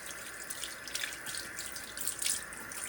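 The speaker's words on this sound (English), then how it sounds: "go ahead and rinse it all off." Tap water runs steadily while a whipped sugar scrub is rinsed off, a close, continuous splashing hiss at a sink with no talk.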